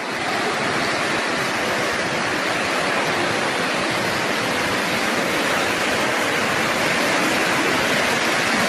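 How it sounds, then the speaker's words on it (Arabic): Floodwater rushing through a street in Amman during heavy flash flooding, a loud, steady broadband roar of torrential water that holds constant and close throughout with no pauses. "فاتت المي فاتت المي يا شباب"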